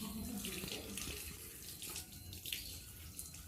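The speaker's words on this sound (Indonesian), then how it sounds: "bilas dengan air" Hands rinsed under a running tap at a sink during a handwashing demonstration, a steady close hiss of flowing water with some splashing that carries on throughout, without talk.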